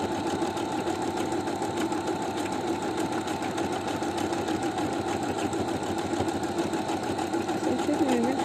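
A new sewing machine stitches fabric in a fast, even run of mechanical clatter and hum, close and continuous.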